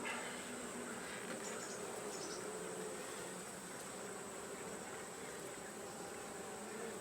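Many honey bees buzz in a dense, continuous hum inside an open hive, close and fairly faint, with no talking.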